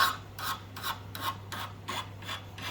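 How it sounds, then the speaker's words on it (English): A hand file rasps back and forth along the cut edge of a metal clothes hanging rail to take off the burr, about a dozen quick, even strokes in steady rhythm, close and fairly quiet over a low hum. "I always carry a file in my toolbox, and it's always best practice to take away the burr."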